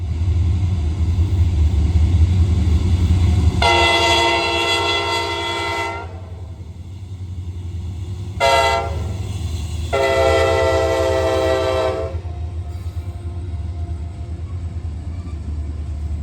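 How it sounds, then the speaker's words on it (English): A freight trash train rumbles past Mountaintop Park in Pennsylvania, its horn sounding loud and close in three blasts: long, short, then long. The heavy rolling rumble of the passing cars continues underneath. "The first one was a trash train with a rather interesting set of power for 2026."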